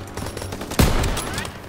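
Machine gun fire in Call of Duty WW2, a sharp loud burst of shots that starts suddenly and rattles on for under a second amid battle noise, with no talking.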